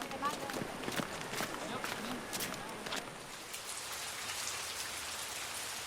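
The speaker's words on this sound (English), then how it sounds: "Torrential rain begins and the work must stop." Torrential rain pours steadily over a remote village in Hathine, a dense, continuous hiss of drops with occasional sharper patters. Faint voices may sit under the downpour.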